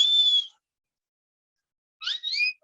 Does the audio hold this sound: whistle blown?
yes